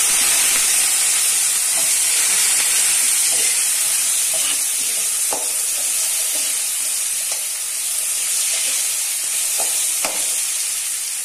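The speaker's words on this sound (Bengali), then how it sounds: "আমটা কেটে রেখেছি, আমটা এর মধ্যে দিয়ে দিলাম।" Cut mango pieces frying in hot oil with five-spice, salt and turmeric, a loud continuous hissing sizzle close by with occasional stirring scrapes.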